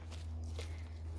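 Faint footsteps descend a volcano trail on Jeju, a few soft steps on the ground over a steady low hum of wind and background.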